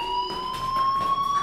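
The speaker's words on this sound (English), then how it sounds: "Hey, do you hear that fire alarm?" A fire alarm blares in the video game Life Is Strange, a loud steady electronic tone with pulsing, throbbing overtones that holds for the whole moment.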